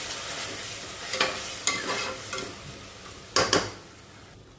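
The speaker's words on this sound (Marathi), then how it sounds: "आता आपल्याला हे तांदूळ आपण ठेवलेले आहेत ते ह्यामध्ये घालून घेऊया आणि आपल्याला तुपामध्ये असे परतवून घेऊया" Rice and cashews sautéed in ghee for Marathi coconut rice (narali bhat), a steady close sizzle broken by several scraping stirs, with two louder stirring bursts near the end; no talking.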